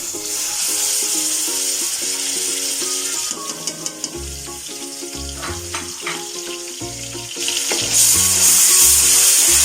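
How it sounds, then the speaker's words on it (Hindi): Ginger garlic paste sizzles and fries in a hot pan for a chicken kofta curry, a steady, loud crackling hiss that runs throughout, over a tonal music backdrop. "आप देख सकते हैं कि इसके अंदर सिजल होना शुरू हो गए।"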